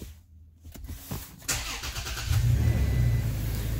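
A Toyota Tacoma TRD Pro, a 2016–2021 third-generation truck, cranks with a few clicks and a brief whir, then its engine catches and settles into a steady, close idle.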